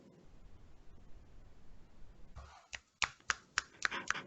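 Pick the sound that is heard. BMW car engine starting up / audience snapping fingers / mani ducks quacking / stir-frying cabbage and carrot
audience snapping fingers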